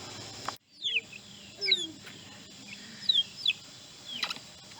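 Chickens cluck and make short chirpy calls in scattered bursts outdoors, fairly close, over a low background hum.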